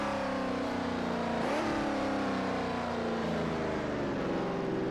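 Eagle T1G race car on a flying lap of Spa in the GPL racing game: a loud, close engine wail that dips briefly as it shifts, then climbs steadily again, continuous throughout with no voices.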